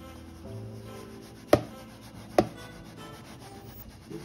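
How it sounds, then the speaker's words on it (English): Organic cornmeal stirred in a bowl, a soft gritty rubbing with two sharp knocks against the side, close and quiet, with no talking. "Stir that up a little bit like that."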